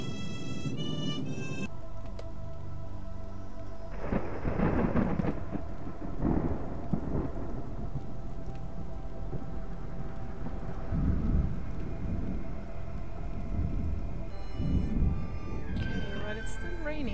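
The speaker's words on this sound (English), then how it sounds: "It's raining" Steady rain hisses throughout while deep rumbles of thunder roll in and out in the game Lost Alpha, with a few bursts of electronic game tones at the start and end.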